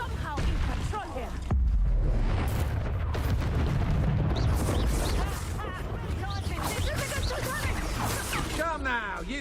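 Spell blasts and explosions in the video game Hogwarts Legacy: repeated booming impacts and crackling bursts over a loud, dense battle din, with a voice shouting spell names throughout.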